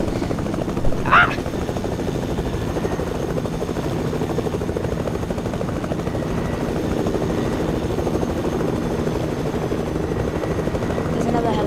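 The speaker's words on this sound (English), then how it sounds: "There's another helicopter." Video game helicopter passing overhead, a continuous throbbing rotor drone holding steady and fairly loud throughout, with a brief sharp noise early on.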